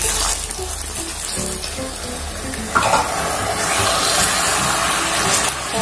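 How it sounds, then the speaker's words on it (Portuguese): Half a cup of water poured into a pan for orange cake syrup, a steady splashing, hissing stream with a sharper burst midway, close and fairly loud. "a gente vai estar pondo a 1/2 xícara de chá de água"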